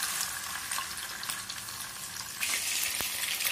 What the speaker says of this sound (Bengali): তেল গরম হয়ে গেছে, এবার আমি মাছগুলো ভেজে নেব।